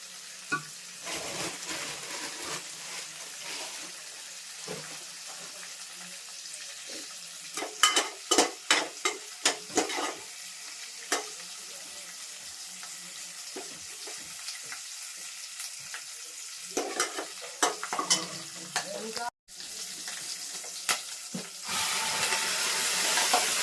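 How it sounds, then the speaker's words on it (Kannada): Onions sizzle in a hot pan for a South Indian tempering, a continuous loud hiss broken by sharp clicks and scrapes of stirring, with a brighter surge of sizzle near the end. "ಒಗ್ಗರಣೆಗೆ ಸಣ್ಣ ಇಲ್ಲ ಅಂದರೆ ನೀವು ಬಂದು ನಾರ್ಮಲ್ ಈರುಳ್ಳಿನೇ ಹಚ್ಚಿ ಹಾಕೋಬೋದು"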